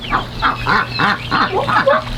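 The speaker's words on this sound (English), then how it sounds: "Look how big the chickens are getting." Repeated nasal honking calls from poultry, about seven in a steady rhythm, close and fairly loud with a low hum underneath.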